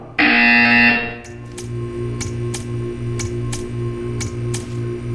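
A loud electronic buzzer in the video game Portal 2 blares for about a second, then a steady hum continues with faint regular ticking pulses.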